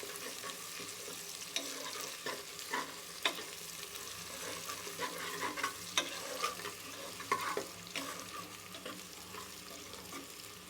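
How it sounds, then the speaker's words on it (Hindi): Ginger fries in a pan for daal mash with a soft, steady sizzle and repeated light scraping and clinking of a stirring spoon, fairly quiet and close, with no speech. "अब हम इसमें ये जो अदरक है वो शामिल करके इसे अच्छे से भून लेंगे"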